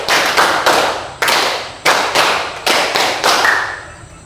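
Sharp hand claps struck in small counted groups, each clap crisp and loud, with short pauses between the sets, in a classroom lesson setting.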